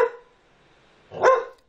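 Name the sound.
pet dog barking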